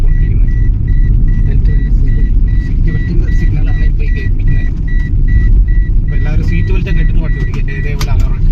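Security alarm on a Bharat Benz 3526R truck at a showroom, a steady repeating electronic beep over a loud low engine rumble, with a person talking nearby.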